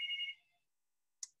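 A mobile phone ringtone plays briefly during an indoor talk on healthy holiday eating: a short tonal chime that fades out, then a single faint blip after a pause.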